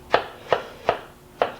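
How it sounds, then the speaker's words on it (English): A kitchen knife chops through pieces of seedless watermelon on a cutting board in four crisp, evenly spaced cuts, close and clear with quiet gaps between them. "Chop it up."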